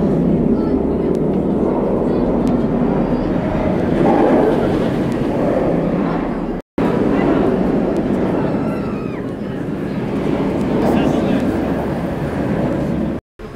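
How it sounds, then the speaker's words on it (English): Steady low rumble and mechanical clatter of a roller coaster train climbing the lift hill at Alton Towers, continuous throughout, with some voices underneath. "Just coming at the top of the lift hill up there now."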